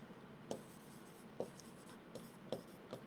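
A word is written on a board in a few quick, faint strokes, with scratchy taps spaced irregularly over quiet room tone.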